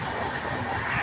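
A passing train on a long-distance rail journey from Chennai to Varanasi in India, a steady dense rumble and clatter of wagons rolling close by, loud and continuous for the whole second.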